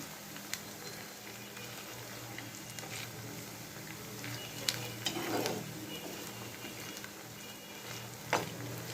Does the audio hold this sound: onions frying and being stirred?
yes